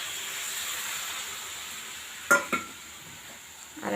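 Mustard paste frying in a pan of pui bituli curry, a soft steady sizzle with two sharp spoon knocks against the pan midway and another light clatter at the end, no voices.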